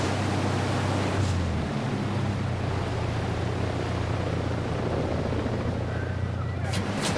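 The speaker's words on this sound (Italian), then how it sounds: "Elicottero, elicottero." A helicopter in the video game Ghost Recon Breakpoint, a steady loud rotor-and-engine drone with a low throbbing hum that holds throughout, with no talk.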